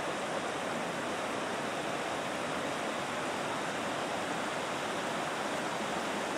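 A flooded creek rushes in a loud, unbroken roar, dense and steady, with no voices or pauses.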